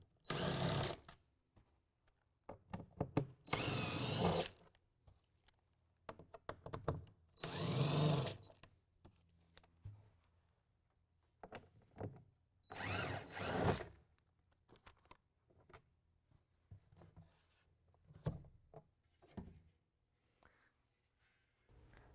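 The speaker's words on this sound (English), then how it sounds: "We're going to use a T30 Torx bit to take out the bolts." A power driver fitted with a T30 Torx bit backs bolts out while installing a GatorTrax retractable tonneau cover on a 2016 Toyota Tacoma, giving several separate whirring bursts with quiet clicks and handling noise between them.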